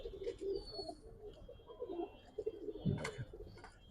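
Giribaz high-flyer pigeons give soft, repeated low coos nearby, fairly quiet, with small chirpy and rustling sounds mixed in.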